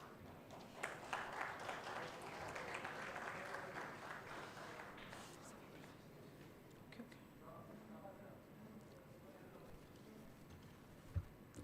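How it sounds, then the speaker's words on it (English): An audience at an academic conference applauds, a burst of clapping building in the first few seconds then fading into scattered claps and murmurs at a moderate distance. "Big round of applause, please."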